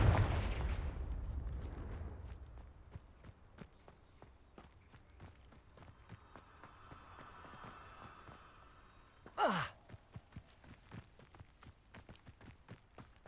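A Confringo fire spell blast in Hogwarts Legacy opens with a loud booming burst that decays over about two seconds, followed by quiet footsteps, a faint shimmering tone and a brief whooshing swell near the end.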